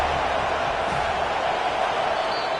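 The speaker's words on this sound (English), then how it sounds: "This crowd bringing the energy and noise early." Stadium crowd in a Madden football video game, a continuous broad roar of many voices that stays loud and even throughout with no single sound standing out.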